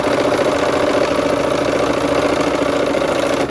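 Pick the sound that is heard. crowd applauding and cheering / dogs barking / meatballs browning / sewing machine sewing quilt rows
sewing machine sewing quilt rows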